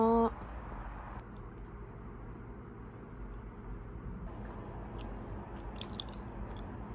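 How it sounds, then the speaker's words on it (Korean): Chewing and biting while eating a meal of rice, soft and close, with faint crunchy bites over a steady low background hum and no talking. "배고프니까 밥 먼저 먹겠습니다."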